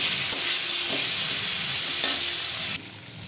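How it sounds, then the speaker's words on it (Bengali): Dried fish frying in hot mustard oil makes a loud, dense sizzle close by, with a couple of stirring scrapes. Near the end the sizzle drops sharply to a quieter hiss. "ভালো করে নাড়াচাড়া করে মাছটাকে লাল করে ভেজে নেবো"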